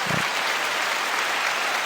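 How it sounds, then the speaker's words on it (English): A round of applause plays as a steady, even wash of many hands clapping, fairly loud and continuous for under two seconds, with no talking over it. "A round of applause."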